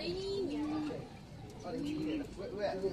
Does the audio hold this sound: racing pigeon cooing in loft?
yes